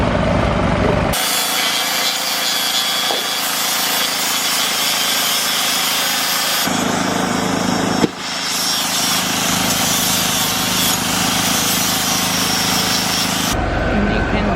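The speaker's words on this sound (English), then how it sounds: "I'm grinding the bottoms as you will see now" Angle grinder working the weld bottoms on a 316L stainless steel safety rail, a loud continuous abrasive whine and rasp that runs almost throughout, easing briefly twice and then stopping near the end.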